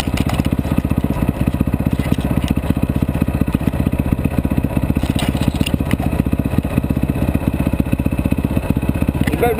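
A 125cc dirt bike engine runs steadily on dirt, close and loud, with a dense mechanical clatter throughout and no clear revving.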